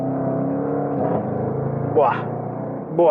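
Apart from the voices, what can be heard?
Jaguar F-Pace SVR V8 exhaust roaring while accelerating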